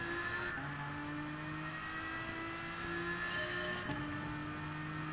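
A GT3 race car engine in Gran Turismo Sport holds a steady, moderately loud drone, with gear shifts stepping the pitch and a sharp blip near the end.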